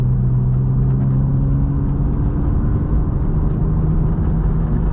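A car driving along winding canyon roads, with a steady loud engine hum and road rumble from inside the cabin, continuous and without talk.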